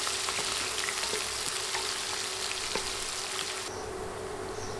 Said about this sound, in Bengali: নেড়ে 2-3 মিনিট পেঁয়াজ ভেজে নিব।